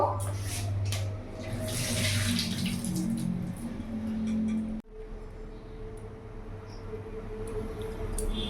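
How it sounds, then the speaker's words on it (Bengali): Hot cooking water drains off boiled taro corms, a steady splashing pour that cuts off abruptly, leaving a quieter trickle and faint kitchen background. "এবার কচু থেকে জলটা ঝরিয়ে নেব।"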